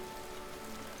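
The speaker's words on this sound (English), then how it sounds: "It is raining" Steady rain falls in the video game Vintage Story, a dense, even hiss of drops pattering on surfaces, continuous and fairly loud across the short stretch with no voices.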